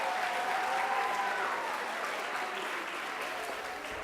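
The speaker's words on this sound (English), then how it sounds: "So give him a round of applause." Audience applause at a school band spring concert, a steady broadband clatter of many hands clapping throughout, loud and sustained before easing slightly toward the end.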